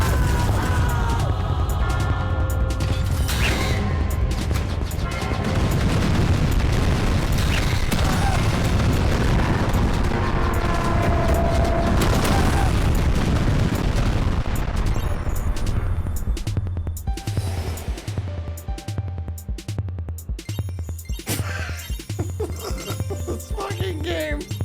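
Rocket launcher explosions in the indie video game Castle Gregory, heavy dense blasts and rumbling booms piling up, then thinning into a rhythmic series of repeated thumps and clinks.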